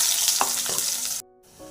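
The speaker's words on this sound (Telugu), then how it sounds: "తాలింపు గింజలు వేసాను వేగుతున్నవి" Loud, steady sizzle of tempering seeds frying in hot oil, then an abrupt drop to near quiet before a faint crackle returns.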